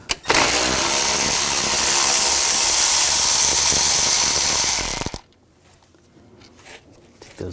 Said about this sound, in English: Take those bolts out.